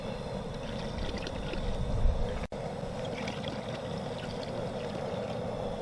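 Liquid concentrated shrimp and crab boil pours into a pot of water for a blue crab boil, a steady splashing, gurgling stream over an outdoor background hum, with a brief clunk partway through.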